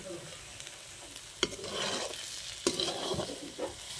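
Onions with turmeric and salt fry gently on low heat while a spoon stirs them, soft sizzling with occasional scraping strokes, quiet and close, no talk.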